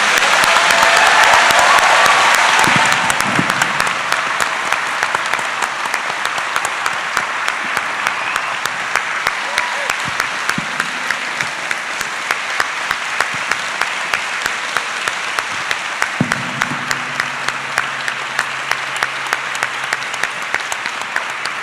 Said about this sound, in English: can we please give a round of applause to these two incredible...